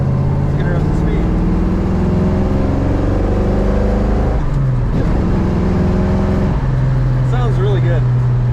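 A 1969 Ford Mustang Mach 1 tribute car accelerating on a cold, dry day, its V8 rising in pitch through the gears with brief drops at each shift, loud and close, with a voice talking over it.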